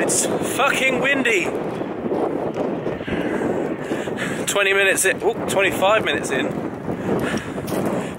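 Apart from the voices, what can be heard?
strong wind on a mountain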